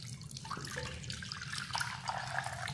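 Water poured into a clay pot to be mixed with milk, a faint continuous splashing and trickling with small drips scattered through.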